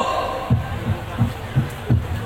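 Hands patting together during a tayammum demonstration at an outdoor gathering in Taichung, Taiwan: five or six soft, dull pats at a steady rhythm over a faint background hum.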